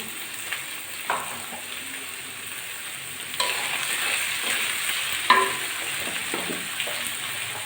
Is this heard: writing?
no